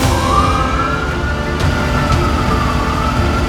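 An ambulance siren wails steadily with a rising and falling tone, loud and close, continuing through the whole stretch over faint traffic noise.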